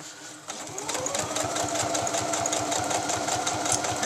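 A sewing machine stitches lining to the front and back bodice of a garment, starting after a short pause and then running in a fast, steady needle clatter, close and alone.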